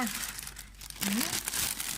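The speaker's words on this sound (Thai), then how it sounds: "เปิดถุงช้อปปิ้ง" A plastic shopping bag crinkles and rustles as it is opened, close and fairly loud, with brief vocal sounds mixed in.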